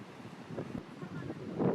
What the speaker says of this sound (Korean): 상당한 바람이 불고 있었습니다.